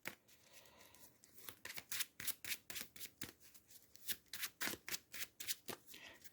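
A deck of Marvel Champions villain cards is shuffled by hand, a quick series of crisp riffling bursts repeating in an even rhythm, close and fairly quiet.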